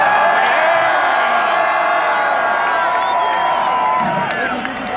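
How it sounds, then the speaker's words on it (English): A huge crowd at an open-air concert in Goffertpark, Nijmegen, roars and cheers continuously at full volume, with shouts and whoops rising out of a dense wall of noise. "This might be the loudest fucking crowd we've ever had."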